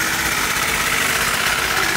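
A mini motorcycle engine running and idling, a close, loud, steady buzzing drone with a constant vibration and no pauses or voices.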